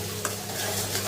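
Mustard seeds fry in hot sesame oil for amla pickle, a steady close sizzle with a faint scrape of stirring and no talk.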